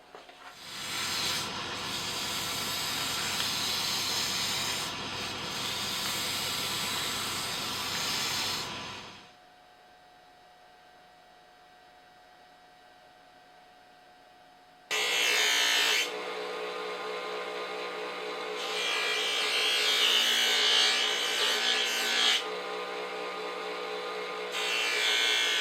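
Brass rod tube hardware for bamboo fly rods being polished on a lathe: a steady loud hissing, whirring rush runs for several seconds, stops into near silence, then resumes just as loud and continuous.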